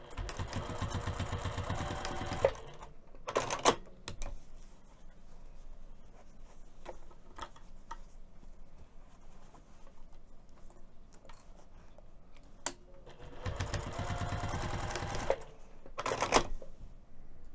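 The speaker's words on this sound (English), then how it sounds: "So I'm going to take this over to the sewing machine and we're going to stitch both ends of the handle down" A sewing machine stitches down both ends of a fabric pouch handle with a 1/8 inch seam allowance. It runs in two close, steady whirring bursts with a quiet gap of small clicks and handling noises between them.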